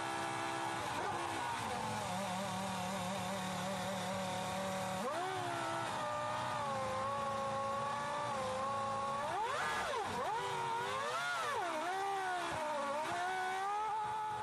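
A Formula 1 race car pulls into the pit lane, its high engine whine holding steady, then dropping and rising in pitch as it slows and revs, loud and continuous with background circuit noise.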